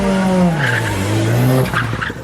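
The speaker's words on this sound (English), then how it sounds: "The vehicles are heading to flag-off point." Rally car heading to the flag-off point at a motor rally in Gulu City: a nearby revving engine with a falling then rising pitch and a brief tire squeal, loud and close.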